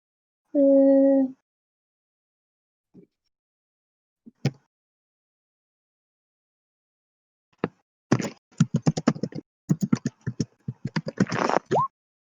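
Typing on a computer keyboard comes in quick, close bursts of key clicks in the second half, after a brief hum and a few isolated knocks in otherwise quiet surroundings.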